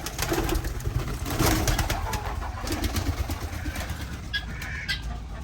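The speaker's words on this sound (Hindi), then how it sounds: "ये तो मैंने वो कबूतर दिखाया कि ये बाहर से आया हुआ" Low, soft pigeon coos repeat close by amid rustling and fluttering noises, with a few brief higher chirps near the end.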